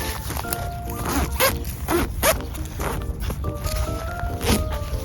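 Zipper on a K2 Indians 5 teepee-style camping tent being pulled in several quick rasping strokes, close and moderately loud, with someone talking softly alongside.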